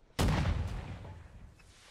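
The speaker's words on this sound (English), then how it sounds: "Also, I do believe, yeah, we got cannons." Cannon fire in the Holdfast video game, a single heavy boom with a rolling rumble that fades over about a second and a half.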